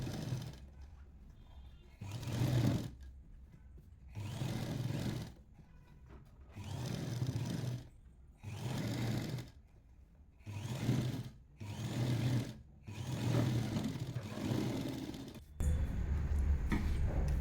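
A sewing machine stitching a seam on a lined blouse runs in about eight bursts of two seconds or less, each a close steady whirr separated by short quiet pauses, with no talking.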